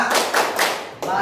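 Group of adults clapping a rhythmic chant at a school teachers' gathering, several bursts of claps in a steady pattern, close and fairly loud.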